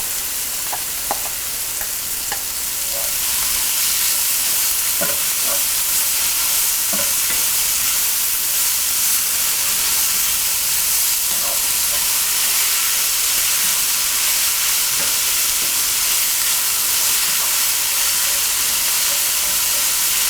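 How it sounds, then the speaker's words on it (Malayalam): Sliced onions sauté in hot oil for a Kerala-style chicken roast, giving a loud, unbroken sizzle and hiss with occasional light clicks of stirring. "നമ്മൾ കട്ട് ചെയ്ത് വെച്ചിരിക്കുന്ന സവോള ഇട്ട് വഴറ്റുക."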